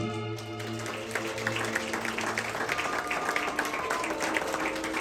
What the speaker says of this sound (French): Madame Marissa, je vous demande d'applaudir.